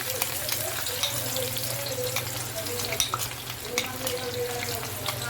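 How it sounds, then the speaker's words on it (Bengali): Chopped onion frying in hot oil for a loitta dried fish bhuna, a steady close sizzle with light stirring scrapes and a low background hum, no talking. "এবার আমার তেলটা গরম হয়ে গেছে, আমি একে একে সবগুলো উপকরণ আস্তে আস্তে দিব। আমি প্রথমে দিব পেঁয়াজ কুচি"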